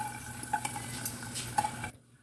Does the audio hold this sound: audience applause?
no